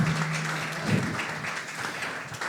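An audience claps steadily at a tribute event honoring a photographer, a dense, even wash of applause lasting a couple of seconds with a low hum beneath it.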